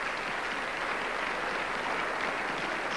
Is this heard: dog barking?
no